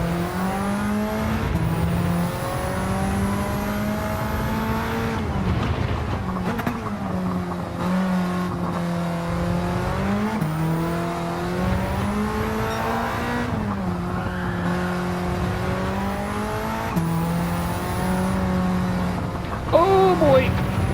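A Mitsubishi Evo race car lapping a track in Gran Turismo 7, its engine droning and rising through gear changes with tire squeal near the end, under continuous talking.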